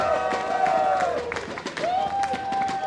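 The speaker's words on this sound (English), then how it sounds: "The crowd is sending all their love to Zane right now." A crowd at a StarCraft II esports finals cheers and applauds steadily, a dense roar of clapping that runs throughout, with a sustained electronic tone sounding over it.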